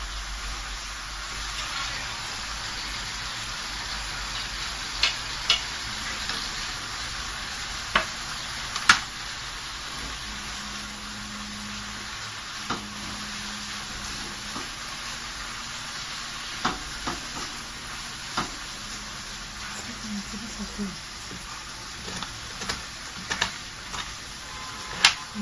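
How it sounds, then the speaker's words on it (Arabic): Onions frying in a pan, a steady soft sizzle with occasional ticks and stirring clicks, fairly quiet and continuous throughout with no talk. "نحط البصل"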